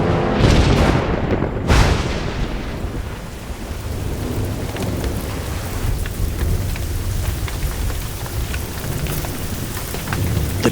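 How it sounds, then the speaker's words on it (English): A torrential downpour drums steadily with heavy thunder rumbling and cracking near the start, then the rain keeps roaring on its own without any talk. "The torrential downpour erases the reference points."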